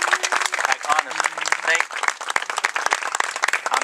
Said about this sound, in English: Can you guys give yourselves a round of applause?